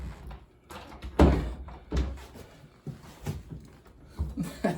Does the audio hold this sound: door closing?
yes